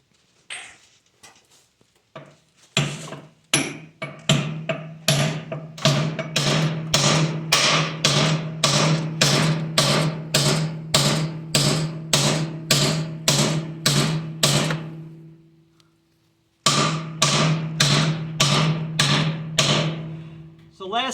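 Hammer blows tapping a metal center pin into place during a John Deere log skidder repair, a long run of sharp, evenly spaced loud strikes with one brief pause before the tapping resumes.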